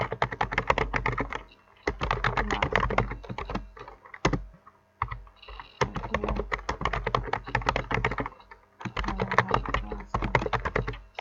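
Steady typing on a computer keyboard while writing C++ code, with rapid close key taps in long runs broken by a few short pauses.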